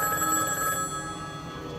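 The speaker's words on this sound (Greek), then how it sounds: "Ποιες καμπάνες, βρε, το τηλέφωνο είναι" A telephone rings with a steady, bright bell-like electronic tone that holds through the short moment at a moderate level, with no voices over it.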